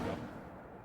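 Casting Incendio in Hogwarts Legacy produces one heavy, booming fiery whoosh, loudest at the start and then trailing off quickly into a low rumble.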